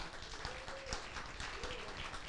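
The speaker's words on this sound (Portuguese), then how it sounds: "receber com uma salva de palmas a Elza Carvalho" An indoor audience gives a round of applause welcoming Elza Carvalho, with soft, scattered clapping and a few nearer claps throughout.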